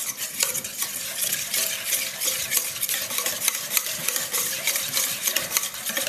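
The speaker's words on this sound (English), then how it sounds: "I just like to take a whisk and in a nice steel mixing bowl like this" A whisk beats raspberry BBQ sauce in a steel mixing bowl, giving a continuous close scraping and rattling rhythm that runs without pause and without talk.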